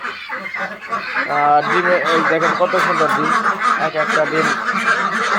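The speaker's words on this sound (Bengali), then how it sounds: "তো আমাদের হাঁসগুলা অনেকক্ষণ ধরে চিল্লাইতেছে।" A flock of Pekin ducks quacks and honks loudly in the morning while they are kept penned during rain. The overlapping calls come close and continuous under a person talking.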